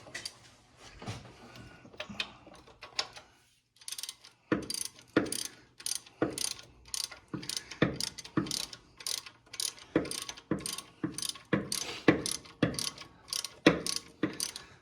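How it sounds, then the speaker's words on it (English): A hand wrench ratchets while a chain tensioner is fitted to a 1980 Mercedes 450SEL, giving repeated sharp clicking strokes in an uneven rhythm, close and distinct, with a short pause before a longer series. "Let me use the wrench for this."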